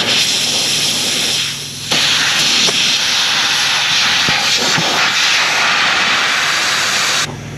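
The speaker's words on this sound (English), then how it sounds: "It's gonna start leaking air." Compressed air rushes from a slit cut with a razor blade in a truck air hose, a loud, close, steady hiss that dips briefly near the start, surges back, then cuts off abruptly; no one speaks.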